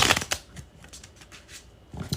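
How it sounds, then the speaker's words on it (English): Bridge shuffle of a deck of playing cards, close up: a quick riffling flutter, then a soft cascading patter as the cards fall together, and another brief riffle at the end. Quiet, with no speech. "when I do the bridge shuffle"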